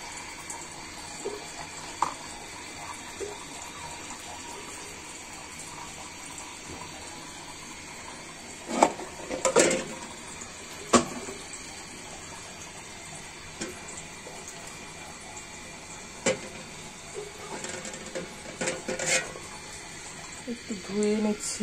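A cooking pot is rinsed under a running tap in a home kitchen, with a steady hiss of flowing water and occasional splashes and knocks of the pot, close by and moderately loud.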